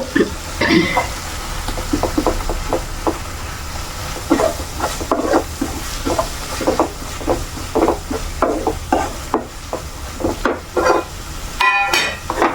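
Soybean chunks sizzle and fry with tomato in a pan, a spoon scraping and stirring in a steady repeated rhythm through loud, continuous frying noise, with a brief clatter near the end.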